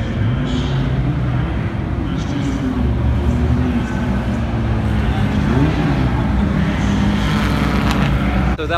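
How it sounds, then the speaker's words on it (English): An old Maserati V8 race car of around 400 horsepower drives past at a Budapest race event, its engine giving a loud, continuous low drone with shifting pitch throughout. "Old Maserati V8 race car, and this is actually lighter than a current F1 car"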